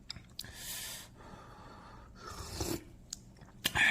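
Eating and sipping broth from a crab soybean-paste (doenjang) stew: close, soft slurps, breaths and chewing noises in short bursts with pauses, no talking.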